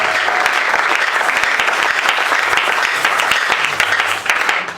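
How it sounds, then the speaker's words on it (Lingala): A church congregation applauds and cheers for the Lord at a Sunday service, sustained loud clapping from a large crowd throughout. "Est-ce que quelqu'un peut acclamer pour le Seigneur?"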